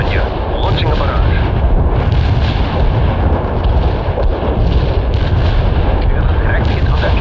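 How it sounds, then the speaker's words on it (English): An artillery barrage in the real-time strategy game World in Conflict, with a continuous rolling rumble of distant explosions and heavy impacts, loud and unbroken, with radio voices speaking over it. "Artillery strike on the way. Commencing the barrage."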